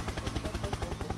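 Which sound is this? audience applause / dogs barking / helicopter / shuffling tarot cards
helicopter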